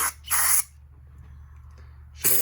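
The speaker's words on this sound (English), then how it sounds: "so now what we do, spray all up in there." Carburetor cleaner sprayed from an aerosol can into a carburetor: two loud hissing bursts, one short and one longer, then a pause and a third burst starting at the end, with faint room noise between.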